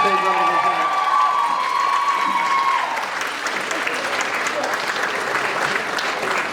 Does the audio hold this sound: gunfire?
no